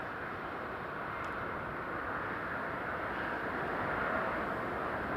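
An EasyJet airliner's jet engines at Newcastle International Airport during a storm make a constant, even rumble and hiss, distant and moderately loud, steady for the whole stretch with no voices.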